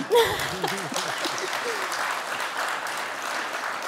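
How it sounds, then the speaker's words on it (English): An audience at a workforce and community conference panel breaks into steady applause, a dense wash of clapping that holds at moderate loudness, with a brief voice at the start. "Yes, clap for that, Matt."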